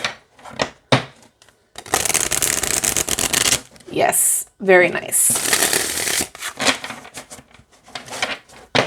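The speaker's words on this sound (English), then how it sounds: "let's see how it shuffles here" Bursts of rapid tarot card riffling and shuffling, papery flutters and slaps repeated several times, with someone briefly speaking between them.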